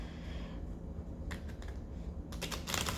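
A tarot card deck being shuffled, giving quiet papery riffles and soft clicking bursts, one brief and one longer, in a hushed room without speech.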